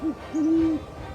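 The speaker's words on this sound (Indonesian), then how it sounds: "Suara paling khas adalah suara mendengung" An owl hooting: a brief low hoot followed by a longer, steady, humming hoot, close and clear with nothing else around it.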